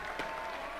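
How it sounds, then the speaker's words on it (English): Brief, fairly faint burst of audience applause at the 2022 U.S. Junior Open Squash Championships finals, a steady spatter of clapping from the crowd. "Good applause."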